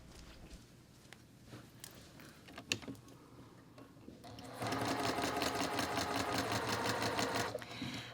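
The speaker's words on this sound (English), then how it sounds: "And then we're going to sew with a 1/4 inch seam." A sewing machine runs a quarter-inch seam on a quilt block, first faint handling and clicks, then a loud, steady rapid stitching burst for about three seconds before stopping.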